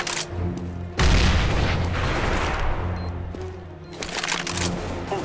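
A grenade explodes in Counter-Strike: Global Offensive: a loud boom breaks out about a second in and rolls on as a long, dense rumble over steady game noise. No voices are heard.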